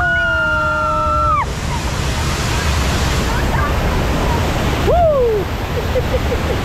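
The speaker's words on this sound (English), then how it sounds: "Ooh, right, into the waterfalls now." Theme park raft ride splashing through waterfalls on Fjord Rafting in the Scandinavia area of Europa Park, a broad loud rush of falling and sloshing water throughout, with excited whoops and riders' voices over the spray.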